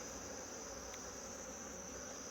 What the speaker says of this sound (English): Boy, Laurel, these bees are not very happy.